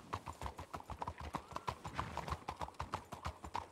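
Horse hooves clip-clop at a quick, even trot in a ranch role-play video game, a steady run of sharp, moderately close hoofbeats with no speech over them.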